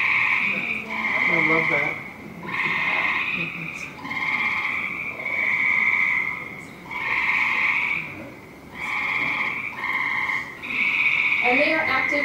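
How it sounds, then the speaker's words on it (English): Gray tree frogs calling in a backyard swamp, a series of loud, steady musical trills repeating every second or so with short gaps, close and clear, and a voice speaks briefly near the end. "So you might hear that call in your backyard, and that's our gray tree frog."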